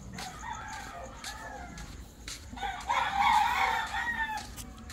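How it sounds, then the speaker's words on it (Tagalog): A rooster crows loudly nearby, a long strained call, with hens clucking and faint voices around it. "Uy, may manok."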